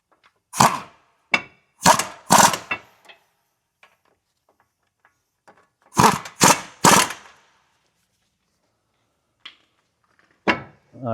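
Sharp ratcheting bursts from a socket wrench tightening brake caliper bracket bolts on a Hyundai Sonata during a front brake job, coming in short quick clusters with silent pauses between, close and fairly loud.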